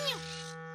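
A cartoon hair dryer switches on with a steady electric whir, holding a constant buzzing hum near and fairly loud, with a brief voice-like sweep at the start.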